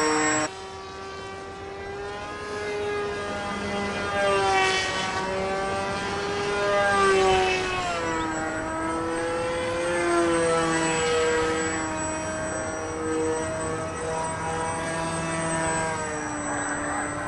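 An RCPowers F35 v3 RC model jet in flight, a steady high-pitched motor whine that sweeps up and down in pitch as it passes, fairly close and continuous, with no talking.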